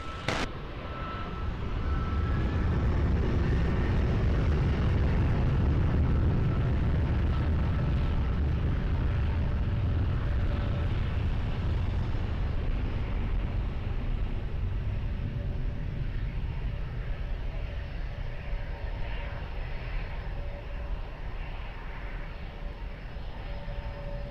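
A Ryanair airliner takes off at Lisbon Airport, a loud, sustained deep engine roar that swells and then slowly recedes over about twenty seconds, with a steady whine riding on top as the jet climbs away.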